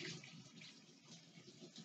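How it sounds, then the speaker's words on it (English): Cold tap water runs steadily over a hot hard-boiled egg in a kitchen, a soft continuous splashing hiss with no speech. "I'm going to cool it off with some cold water,"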